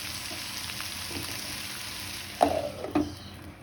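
Potato with bottle gourd peels fries over a low gas flame, a soft steady sizzle close by, with two short louder clatters of stirring near the end.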